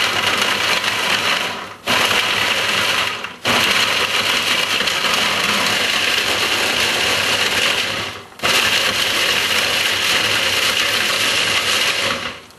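A blender runs in long bursts, cutting out briefly between pulses as it dices homemade HE laundry detergent ingredients; the motor whirs steadily and loudly, with no talking.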